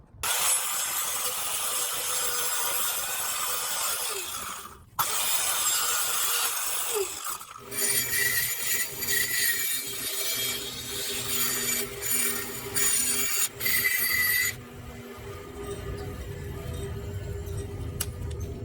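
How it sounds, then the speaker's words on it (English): A bandsaw cuts wood pieces for a Christmas box build: a loud, continuous whirring cut that stops briefly, resumes with shifting pitch and scraping, and ends in a quieter run of the machine. "I'm not doing this on a table saw, I'm doing this on the bandsaw."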